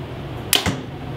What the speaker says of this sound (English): Go ahead and shoot a couple arrows, see what it's like.